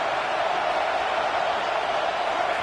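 A stadium crowd roars behind the defense on a big third down at a college football game involving TCU, a dense, steady wall of distant cheering with no breaks.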